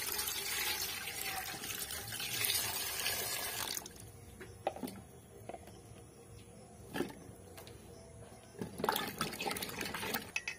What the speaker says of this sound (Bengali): ভালো করে ধুয়ে নেব।